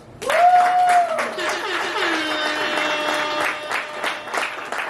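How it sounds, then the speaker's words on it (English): Audience at a poetry celebration applauds with a steady wash of clapping over about five seconds, mixed with a sustained held tone and faint voices underneath. "we gotta give Q and the Stu another round of applause"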